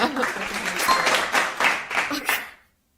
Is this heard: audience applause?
yes